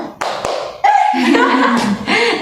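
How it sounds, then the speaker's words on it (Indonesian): Two sharp single hand claps open a group counseling class exercise, followed by chuckling and people talking close by. "tepuk tunggal, tepuk ganda, tunggal"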